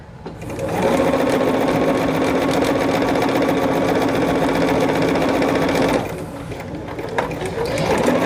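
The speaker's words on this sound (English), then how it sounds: "You will get some of the sewing" A sewing machine runs in one steady, loud burst of stitching for several seconds, stops abruptly, then starts again more softly, with no voices over it.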